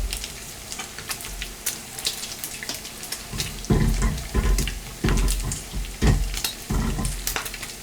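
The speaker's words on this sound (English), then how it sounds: "Now, I always fry my bacon in cast iron because it gives it a better flavor." Bacon frying in a cast iron skillet gives a steady crackling sizzle with scattered pops, joined by intermittent heavier scraping and stirring knocks near the pan.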